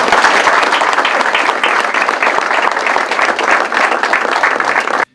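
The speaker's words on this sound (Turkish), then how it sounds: "Dinletiyi sunan öğrenciler dinleyicilerden büyük alkış aldı." Loud, dense applause from a festival audience after a student music recital at a women and art festival, sustained evenly before cutting off abruptly at the end.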